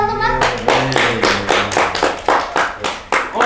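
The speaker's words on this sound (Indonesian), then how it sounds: "Tepuk tangan teman-teman." An audience at a campus talk show in Cikarang breaks into loud, brisk applause, a dense burst of claps that pulses in rhythmic waves for a few seconds.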